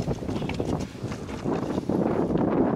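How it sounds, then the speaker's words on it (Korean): Wind gusts in steady waves across a high snowy mountain trail on an Annapurna Base Camp trek above 3,000 m, a loud continuous buffeting roar close to the microphone that swells toward the end. "구름이 많아지면서 바람이 불기 시작했습니다."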